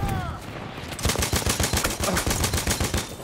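Rapid bursts of Perino machine gun fire in Battlefield 1 multiplayer, a steady run of close, punchy shots following a brief lead-in, loud and dominant.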